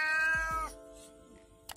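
A single cat gives a loud, close meow lasting under a second, its pitch bending downward, followed by quiet room noise and a faint short sound at the end.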